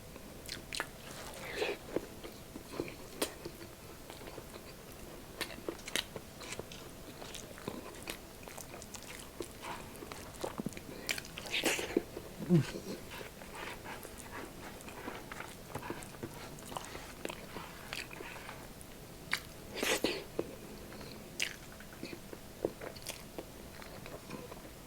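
Someone eats beef mechado and pork in a Filipino-style mukbang, with close, soft biting and chewing sounds in irregular bursts throughout, a few louder crunchy bites standing out against a quiet background.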